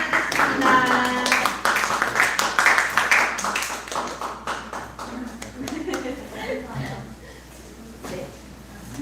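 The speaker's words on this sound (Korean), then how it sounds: "박수로 환영하겠습니다." Church young-adult congregation clapping to welcome newcomers, a moderate round of applause with scattered claps and light laughter mixed under a speaking voice that continues over it.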